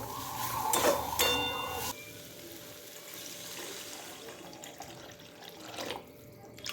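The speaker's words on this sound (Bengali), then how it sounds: "এখন আমি এর মধ্যে জল দিয়ে দেব।" Water poured into a cooking pot of partly boiled potatoes for a Bengali fish curry, a steady splashing stream that thins to a quieter trickle, fairly close and alone.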